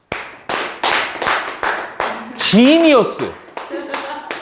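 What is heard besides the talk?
students clapping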